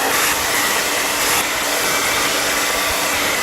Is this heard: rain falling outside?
no